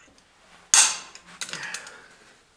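Single sharp metallic click from a torque wrench reaching 55 foot-pounds on a Jeep steering bolt, close and loud, followed by a few faint clinks of tool handling.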